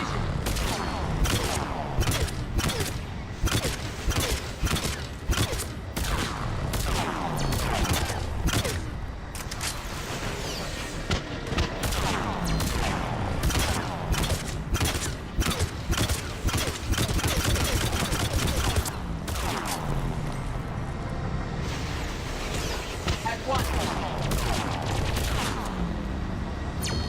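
Missile salvos fire repeatedly in a Mass Effect 3 battle, rapid rolling bursts of launches and blasts layered over engine rumble and combat noise, loud and nearly continuous throughout.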